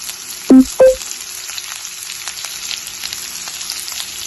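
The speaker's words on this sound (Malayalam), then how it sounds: "ഇനി നമുക്ക് അരിഞ്ഞു വെച്ചിരിക്കുന്ന ഓണിയൻ ഇട്ട് കൊടുക്കാം" Chopped onion and green chili fry in hot oil for a beef curry, a steady close sizzle with two short tonal clinks near the start, no talking.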